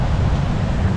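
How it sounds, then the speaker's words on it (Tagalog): Strong wind sweeps across a seaside campsite in Casiguran, Aurora Province, a dense, continuous rumbling roar with gusty low buffeting. It is close and steady, with no voices. "Ayan, lakas ng hangin."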